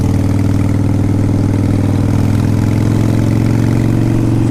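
A Harley-Davidson 883 Iron's V-twin engine rumbles steadily and loud, a continuous deep throbbing drone close by with no talk over it.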